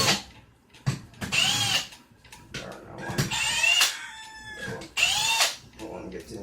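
A power drill works a nut while a battery is taken apart, whirring in several short bursts that rise and fall in pitch, close by, with brief pauses between them.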